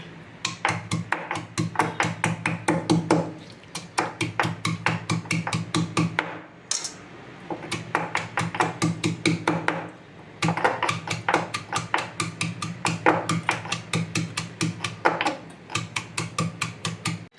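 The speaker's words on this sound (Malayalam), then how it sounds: "വെളുത്തുള്ളി ജീരകം ഇഞ്ചിയെല്ലാം പൊടിച്ചെടുക്കണം" A mixer grinder grinding garlic, cumin and ginger pulses in repeated rapid mechanical bursts, loud and close, with short pauses between runs.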